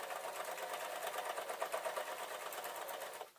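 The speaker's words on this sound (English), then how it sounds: "I'm going to finish sewing" A sewing machine runs continuously as it finishes stitching a small tote bag, its rapid even needle chatter close and fairly quiet, stopping abruptly at the end with no talking.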